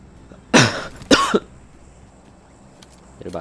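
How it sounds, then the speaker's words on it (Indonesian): Two sharp coughs from a player during a PUBG Mobile match, close to the mic, each a short harsh burst separated by about half a second, followed by quiet room noise. "Batuk."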